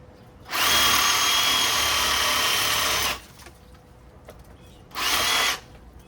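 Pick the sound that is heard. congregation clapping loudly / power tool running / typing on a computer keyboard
power tool running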